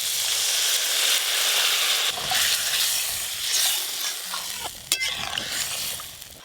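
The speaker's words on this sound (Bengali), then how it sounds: "খুব ভালো করে তেল ছেড়ে গেছে, এবার জল দিয়ে দেবো।" Water poured into hot oil in a pan of small-fish curry, cooked village-style, sets off a loud, steady, broad sizzle that holds throughout, with a few sharp clinks of the utensil near the end.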